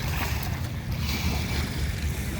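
A ship on the sea off Pattaya beach, Thailand, gives a steady low engine rumble with wind and water noise around it, continuous and fairly near, with no talk.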